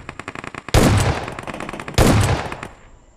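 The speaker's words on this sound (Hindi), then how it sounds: "चारों तरफ गोली चल रही" Gunfire in a shooter video game: a rapid string of close shots, then two loud, heavy blasts that each ring out and decay.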